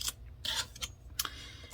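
Scissors cutting watercolor paper sprayed with distress ink, heard as several short, close snips in quick succession with brief pauses and no talking.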